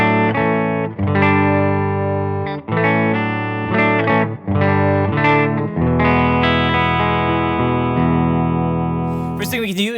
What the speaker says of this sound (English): So the Silktone amp by itself sounds like this.